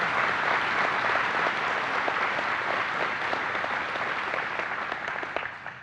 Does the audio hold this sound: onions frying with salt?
no